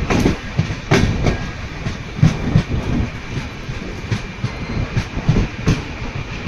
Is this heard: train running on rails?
yes